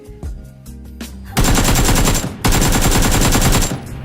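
Automatic rifle fire from PUBG comes in two long, loud, rapid bursts, each about a second long and separated by a short gap. A few single shots and mechanical clicks come first, and no voice is heard.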